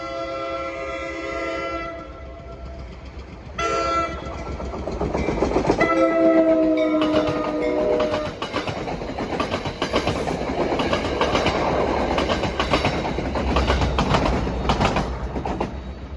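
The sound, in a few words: NJ Transit train passing level crossing, Waldwick to Hoboken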